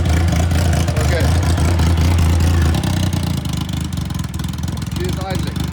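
A budget £300 project motorcycle with a freshly cleaned fuel system and new tubes ticks over at a steady, close idle, with a voice speaking alongside it.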